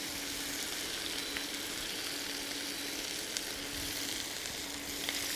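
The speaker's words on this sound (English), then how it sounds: "Searing the pork medallions now." Pork medallions searing in a hot pan give off a steady, even sizzle and crackle that holds at a constant level throughout, with no voices over it.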